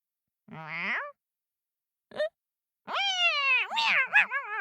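A cat meows three times nearby: a short cry, a tiny chirp, then a long wavering meow that rises and falls.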